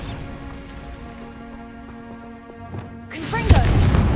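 A Bombarda spell blast in Hogwarts Legacy on PS5 goes off as a sudden loud burst near the end, breaking a steady droning background and spilling into crackling debris.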